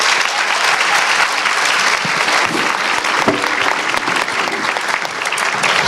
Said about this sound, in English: give applause to each person, because they were remarkable